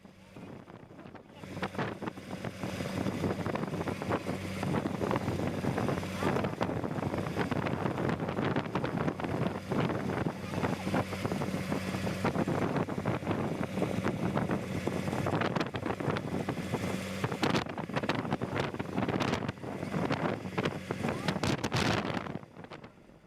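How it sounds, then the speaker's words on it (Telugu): Strong sea wind roars around a boat off the coast of Vizag near a burning vessel, buffeting the microphone in a loud, continuous rush for about twenty seconds before it cuts off. "దానికి తోడు సముద్రం కావడంతో గాలి కూడా విపరీతంగా ఉంది"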